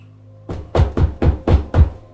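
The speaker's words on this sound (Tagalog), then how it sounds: "Pagkarating sa gate na Yero ay agad kumatok si Magnus" A corrugated iron gate is struck five times in quick succession, each knock a close, hollow metallic bang with a short rattle, following a brief quiet pause.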